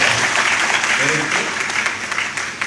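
A crowd at a Veer Savarkar birth anniversary commemoration in Pratapgarh bursts into loud, sustained applause, a thick wash of clapping that holds strong throughout and tapers slightly near the end, with a voice briefly audible within it.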